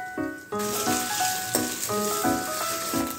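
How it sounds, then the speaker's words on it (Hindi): Potatoes fry in oil in a pan for aloo bhindi bhujiya, giving a steady close sizzle and hiss. Bright metallic clinks and tonal ringing recur over it, as if a utensil strikes the pan. "अब हम ये जो हमारे आलू हैं उनको फ्राई करना है हमें"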